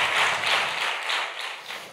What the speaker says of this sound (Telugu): సిస్టర్ బ్లెస్లీ గారిని చప్పట్లు కొడుతూ వారికి మన అభినందన తెలియచేద్దాం